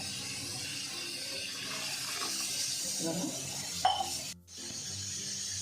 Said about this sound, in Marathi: जितकं लागतंय तितकं पाणी टाकून द्यायचं याच्यात।